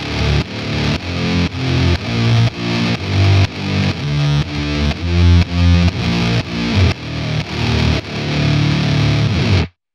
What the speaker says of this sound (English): this will result in that classic pulsing bass sound